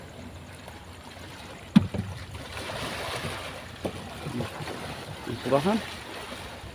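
Waves slosh and wash around a small fishing boat on a choppy sea, a steady rough wash with a sharp knock and a few splashes, while someone talks over it.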